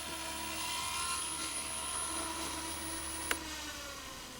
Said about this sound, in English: Cool, crash-proof helicopter right there.